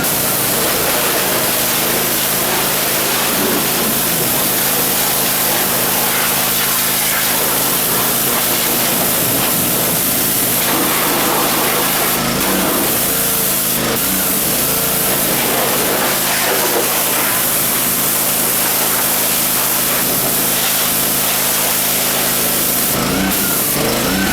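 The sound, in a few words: spraying degreaser on a car engine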